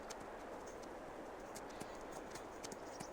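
A horse ridden in Farming Simulator 22 on the Elm Creek farm, its hooves clip-clopping in an even, soft rhythm against a low, hazy ambient background.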